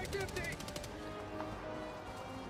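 Rapid gunfire is aimed at a bug tank in Helldivers 2, a quick burst of repeated shots at the start that fades into quieter game noise, fairly faint and under players' talk.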